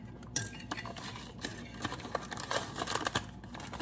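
Metal spoon scooping pudding and tapping into small cups, giving quick light clinks and scrapes in an irregular rhythm, close and fairly quiet, with no talking.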